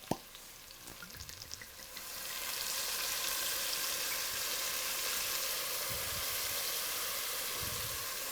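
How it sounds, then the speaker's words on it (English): Garlic and tomato paste frying in a stew pot, a few soft taps and stirs at first, then a steady broad sizzle swelling up and holding loud and even to the end, with no talk. "Just to get the garlic popping"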